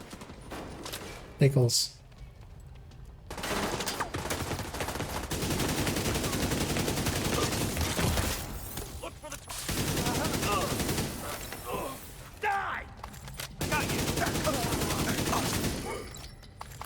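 Bursts of video game gunfire rattle in loud volleys with short pauses between them, while a person talks over parts of the shooting.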